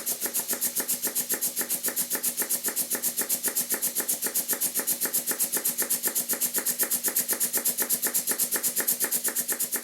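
Rapid, even chuffing of an old model steam engine running steadily in a workshop, a regular hissing pulse that repeats without pause throughout.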